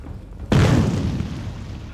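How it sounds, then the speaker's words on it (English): A frag grenade bursts in the shooter game Haze, one sudden loud boom that rolls off into a long fading rumble after a brief quiet lead-in. "Frag grenade."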